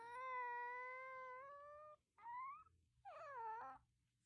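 A cat gives three drawn-out, tonal meows that sound like a crying baby, the first long and steady, the next two shorter and wavering, close and clear over quiet background.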